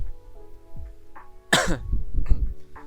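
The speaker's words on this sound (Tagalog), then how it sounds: "kung medyo inuubo ako" A sharp cough bursts out, followed by a couple of rougher throat-clearing coughs, close and loud against a quiet room.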